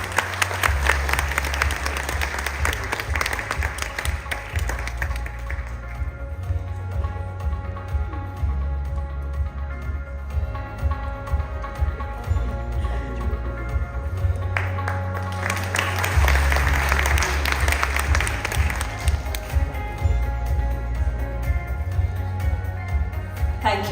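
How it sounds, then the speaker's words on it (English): An audience at a leadership conference and women's career awards ceremony applauds in a sustained, dense wave of clapping that swells again midway, with music playing underneath. "Can I hear a big round of applause?"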